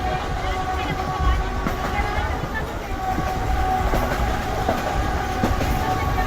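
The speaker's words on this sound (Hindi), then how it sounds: "तो बड़े मज़ेदार ट्रैक साउंड के साथ ट्रेन हमारी छोड़ रही है इस वक्त" Passenger train departing a station near Lahore, Pakistan, running on the tracks with a loud, continuous rolling rumble and repeated clickety-clack wheel beats over rail joints, heard close from inside the coach.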